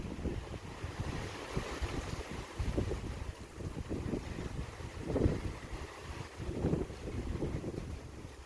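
Wind blows through a garden with roses in full bloom, a soft continuous rush with gusty buffeting against the microphone that swells and eases, and no voices.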